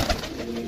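A pigeon gives a short, soft coo at close range, a single brief low call with no other sound around it.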